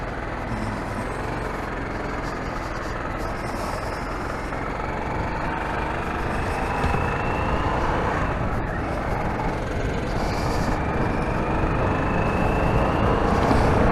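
A Harley-Davidson Sportster S motorcycle is test ridden on the road, giving a continuous loud engine drone mixed with wind roar. The noise holds steady throughout with no talking.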